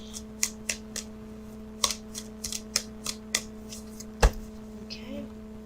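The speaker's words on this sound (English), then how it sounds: "So what I'm doing now is I'm shuffling for the outcome card." Tarot cards being shuffled by hand, giving a run of light, quick riffling taps and flicks at close range over a faint steady hum, with one sharper knock near the end.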